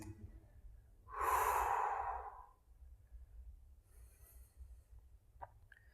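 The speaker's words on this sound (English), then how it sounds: "Breathe." A single long, deep exhale during a vinyasa yoga class, close and clear, followed by quiet room tone with a few faint rustles.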